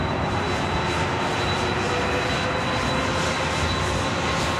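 A Delta Airlines Boeing 767-400ER jet at LAX roars steadily and loudly, a dense continuous engine rumble and whine with no break.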